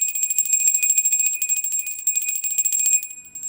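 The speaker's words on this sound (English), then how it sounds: "We ring the bell." A small bell rung to cleanse the space before a tarot reading rings out with a bright, sustained high tone that shimmers steadily for several seconds before cutting off.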